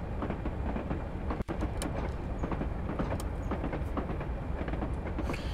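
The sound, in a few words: Class 37 diesel locomotive engine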